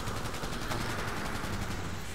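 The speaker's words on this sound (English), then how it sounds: "There's like gunshots everywhere." Rapid, dense gunfire from Cyberpunk 2077 crackles steadily in the background, a continuous fusillade of shots with no talk over it.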